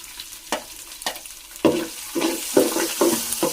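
Ginger frying in oil in a pan for beef pickle, with repeated bursts of sizzling and stirring scrapes that grow louder and busier partway through.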